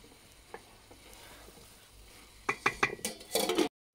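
Mixed vegetables with capsicum are stirred in a pan, with faint soft sizzling and then a short run of louder metallic scrapes and clinks of a spoon against the pan before the sound cuts off.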